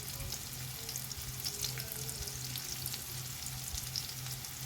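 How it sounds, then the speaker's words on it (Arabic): Onion and garlic fry in a pan while being stirred, making a steady close sizzle with soft scraping and stirring sounds and no talking. "هنقلب كده تقلبتين البصل مع الثوم"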